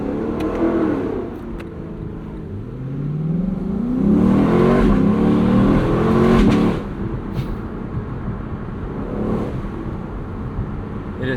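A 2024 Lexus LC 500 V8 convertible accelerates, its engine note climbing in pitch, swelling loud and close midway, then settling into a steady cruising drone.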